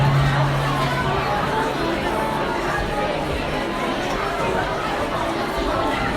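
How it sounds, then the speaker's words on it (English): Crowd filtering into a stadium before a second half: a steady, dense hubbub of many distant voices and shuffling, with no single voice standing out. "Anyway, the crowd are filtering in."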